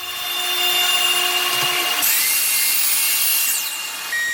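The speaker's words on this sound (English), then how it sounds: "Next, I cut the MDF panels that would finish making up the sides." MDF panels are being cut with a power saw for the sides of a wooden dresser and changing table. The cutting whine is loud and runs the whole time, its pitch shifting partway through, and no one speaks.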